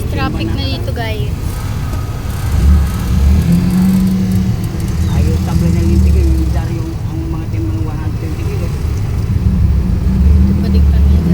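Road traffic rumbles steadily as cars pass and engines idle and pull away at close range, a continuous low roar with a person talking over it.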